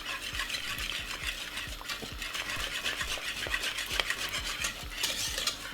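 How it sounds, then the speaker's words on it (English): A spoon stirs a white cheese sauce in a pot on the stove, scraping and knocking against the sides in a quick, steady rhythm of close, soft clinks and swishes, with no talk. "Right, just put a little bit more milk, just a tiny bit more. Give it a stir."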